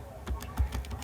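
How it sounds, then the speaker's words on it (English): Fingers tap numbers into a calculator in a quick, uneven series of soft clicks, close up with a low hum underneath. "I'm literally just typing this into my calculator right now."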